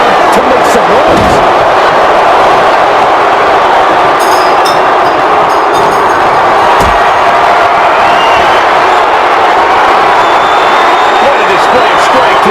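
A wrestling arena crowd in WWE 2K25 roars continuously, a loud, dense wall of cheering and noise that holds steady from start to finish with scattered sharper shouts on top.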